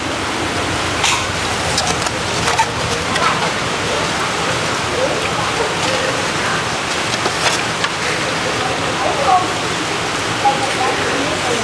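Steady rain falls during an outdoor charity handout to small children in Vietnam, a continuous hiss of drops on surfaces with scattered spatters, while people talk nearby.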